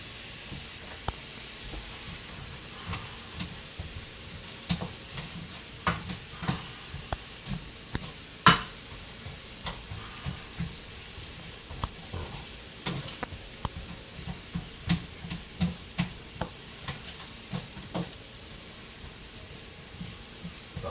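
Onions and leeks sizzle steadily in a hot pan on a home stove, with irregular scraping and knocking from stirring breaking through the continuous frying hiss, with no talk.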